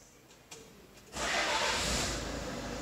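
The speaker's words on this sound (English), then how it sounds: "the engine's not running, but in a minute, when Damien turns it on" A campervan engine cranks briefly and catches, then settles into a steady, fairly loud running drone close by, with no voices over it.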